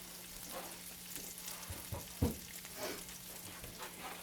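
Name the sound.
food sizzling in a pan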